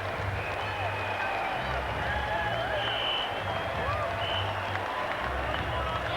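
A cricket crowd at a Test match in Kingston rises in a standing ovation, steady broad applause and cheering running throughout while a commentator speaks over it.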